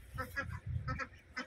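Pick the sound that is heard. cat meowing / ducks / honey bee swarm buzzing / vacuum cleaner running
ducks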